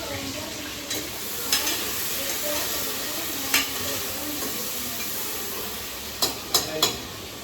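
Chopped onion fries in hot tempering oil, making a steady sizzle throughout with occasional scraping stirs and brief clinks, close by and fairly loud, with a little talk faintly in the background.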